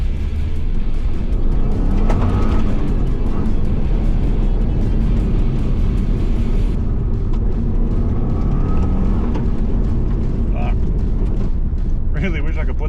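A car with no plates and a rear window stuck open is driven in low gears, its loud engine rumbling steadily with wind noise throughout.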